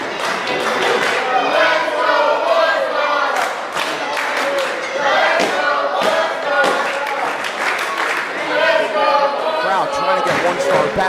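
Wrestling crowd at an ACCW Wrestlegate II match cheering and clapping for One Star Brad Attitude, a dense, loud, continuous roar of voices with scattered shouts and claps throughout.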